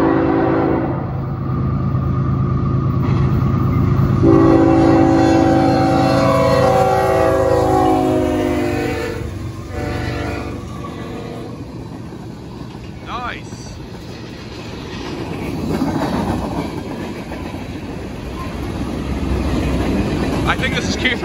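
A CSX freight train made up of many tanker cars rolls past the Attridge Road crossing near Churchville, New York, giving a steady loud rumble with horn blasts early on and wheel noise continuing throughout.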